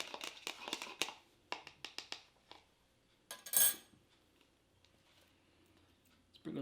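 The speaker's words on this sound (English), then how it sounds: "we're going to toss the salad" Salad being tossed and stirred in a bowl with utensils for an oil and lemon dressing, heard as quick clinking and scraping taps in a rapid cluster, then scattered softer clatters and a rustle, close and fairly quiet.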